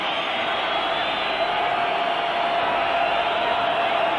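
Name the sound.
Liverpool supporters whistling anxiously in stadium crowd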